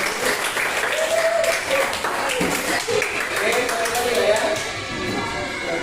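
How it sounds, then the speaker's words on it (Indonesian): A classroom gives a student group a round of applause, with dense, sustained clapping from many hands filling the room, while a few voices talk and call out over it. "Kita beri tepuk tangan untuk kelompok 5."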